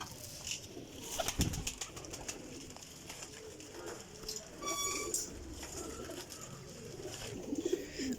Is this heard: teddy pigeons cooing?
yes